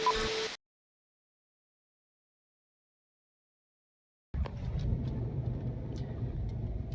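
Turbocharged Honda Civic with a D16Z6 engine and an open downpipe, a low rumbling engine heard after a stretch of silence, moderately loud and steady with no talk over it.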